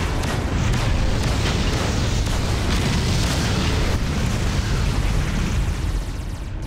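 Spaceship explosions in the space combat game Freelancer form a loud, continuous booming roar that fills the whole stretch and eases off slightly at the end, with no voices.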